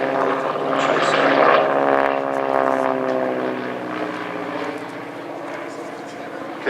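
A Mustang propeller warplane flies past at an air festival, its engine drone loud and close with a sweeping, shifting pitch, fading slightly as it goes by; a commentator talks over it.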